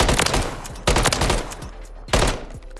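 Three rapid bursts of automatic gunfire from a rifle fitted with an angled grip in the video game Call of Duty MW3, each volley a loud, close, rattling string of shots separated by brief gaps.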